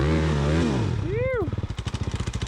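A motorcycle on a rocky off-road trail revs hard under heavy throttle, its engine note rising and falling close by and then settling into a rapid, pulsing chug; someone talks over the start.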